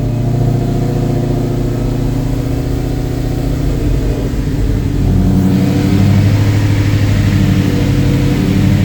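A supercharged four-door SVT Cobra runs with light throttle held in, a steady rumbling engine drone that swells a little louder partway through, close and loud with no talking.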